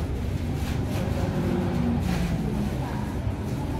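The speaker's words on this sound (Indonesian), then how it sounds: "Nah, pakai mesin dinamo dia." An electric motor-driven grinder churns meatball dough for bakso, a steady, loud mechanical rumble running throughout with voices faintly underneath.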